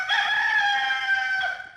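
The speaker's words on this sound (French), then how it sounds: "Coq la chanté, soleil poco levé" A rooster crows at dawn in one long, loud, sustained cock-a-doodle-doo call close by, which tails off near the end.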